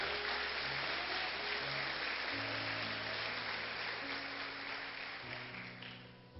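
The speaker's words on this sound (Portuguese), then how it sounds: "Pode aplaudir a Ele." Congregation applause at a Portuguese-language church service, a dense, steady wash of clapping heard throughout with sustained music or organ tones beneath, fading slightly toward the end.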